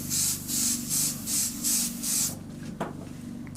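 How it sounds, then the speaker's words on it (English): An airbrush sprays transparent shading grey paint thinned straight from the bottle, hissing in about six short bursts with brief gaps between them. A low mechanical hum continues underneath, and a couple of faint clicks follow at the end. "So that will spray out the bottle"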